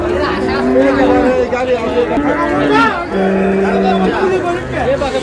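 A bull calf moos in several drawn-out calls at a busy rural cattle market at Raniganj haat in Dinajpur, with steady crowd chatter and voices around it.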